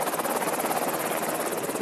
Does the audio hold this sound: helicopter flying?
yes